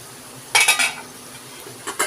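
A spoon scrapes and clanks against a pan while stirring a French beans and potato fry, a few sharp metallic strokes in quick succession and two more near the end over a quiet background.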